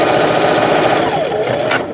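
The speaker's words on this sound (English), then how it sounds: "I'm going to stitch these down." A sewing machine stitching down denim sleeves runs steadily with a fast, even mechanical chatter, close and loud, for the whole short stretch with no talk over it.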